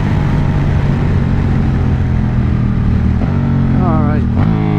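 Honda Rebel 1100 DCT cruiser motorcycle engine on a racetrack, a loud steady close drone with rising revs and a gear-shift sweep near the end, running continuously throughout.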